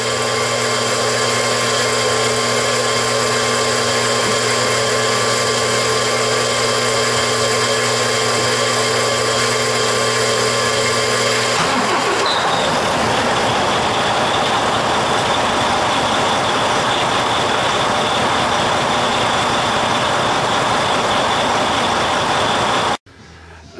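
An engine is started with a 250E unit: a steady tonal hum gives way midway to a louder, rougher broadband running roar that holds constant, then cuts off abruptly near the end.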